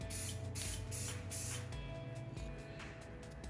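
Krylon sealer sprays in light coats from an aerosol can onto small locket project parts, making close hissing bursts in quick succession followed by a steadier, quieter spray.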